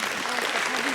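Brief audience applause at a talk on tax changes, dense clapping lasting about a second with a voice faintly audible underneath.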